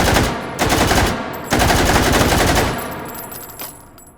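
A vz58 rifle in H3VR fires on full auto, two loud, close bursts of rapid rattling shots back to back, then a fading echoing tail with a light click near the end.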